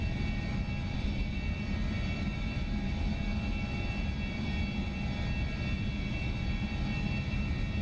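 Flight Sim Labs A321ceo jet engines heard from outside in Microsoft Flight Simulator 2024 on an EVA Air flight in Taiwan: a steady, loud, broadband roar and rumble that holds unbroken throughout, with no talking.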